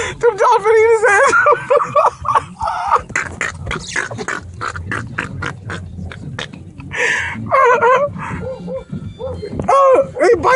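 Several dogs yip, whimper and bark in a chaotic scuffle, as if attacking a mail carrier, loud and close with bursts of agitated noise, while someone shouts over them.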